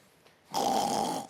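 A man imitates snoring with his throat, one loud rasping, vibrating inhalation that starts abruptly and holds for about a second.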